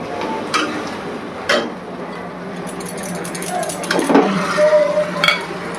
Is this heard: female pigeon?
no